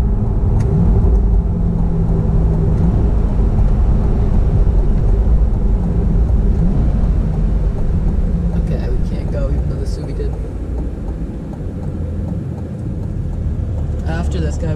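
A C8 Corvette in Z mode cruises along a highway, its engine and road noise a steady loud rumble inside the cabin throughout, with a driver speaking over it.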